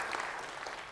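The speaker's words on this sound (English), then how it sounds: "I'd like some claps for the product team." A conference audience at a Microsoft Ignite technical session gives the product team a brief round of applause, a faint, scattered patter of clapping from across a large hall.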